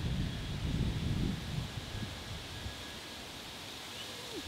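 Wind blows outdoors at about 10 to 15 miles an hour, a broad rushing roar buffeting the microphone, strongest at the start and settling into a steadier hiss.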